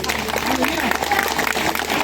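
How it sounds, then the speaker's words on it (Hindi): A congregation at a Christian healing prayer meeting claps loudly in a brisk, dense burst, with voices mixed in over the clapping. "जोर ताली बजा दो"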